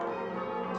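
Church bells in Massachusetts sound in change-ringing number patterns, a dense, sustained wash of overlapping metallic tones ringing steadily and fairly loud.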